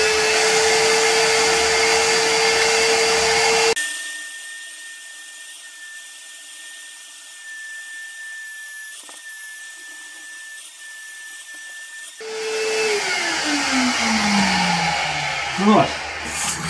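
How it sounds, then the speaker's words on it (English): A shop vac sucks debris out of a deep hole, a loud steady whine that drops to a quieter, muffled hum with a whistling tone as the hose goes down, then rises again and winds down. "the easiest way I found to clean a hole that I can't reach down to is with the shop vac, and it does a really good job"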